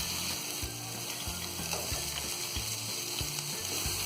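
Dry fruits roasting in thick raw papaya halwa in a pan, a steady close sizzle with stirring scrapes throughout, no voices.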